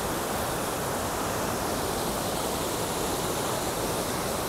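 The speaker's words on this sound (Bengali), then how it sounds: "এই যে ওয়াটারফলসটা এখানে নামছে জলটা, এই জলটা নেমে এদিক দিয়ে একদম নিচে বয়ে চলেছে" Steady broadband rush of a waterfall with water flowing down a hillside in Ghatshila and Belpahari, a constant, even roar with no breaks or voices.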